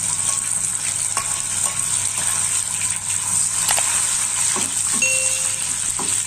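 Shallots sauté in a pan of previously used frying oil, giving a steady, close sizzle with occasional clinks and scrapes of a utensil stirring through.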